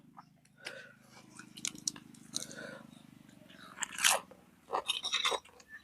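Crunchy chewing of fried chili with instant noodles from a giant tray, close-up bites and mastication in irregular bursts over a low background hum, growing louder toward the end.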